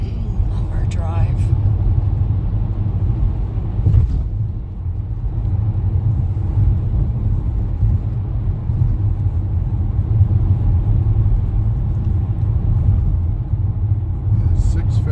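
A car drives along a snowy road in 6 °F cold, a steady low engine and road rumble heard from inside the vehicle, with voices talking over it in places.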